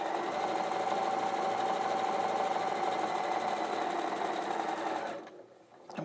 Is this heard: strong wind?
no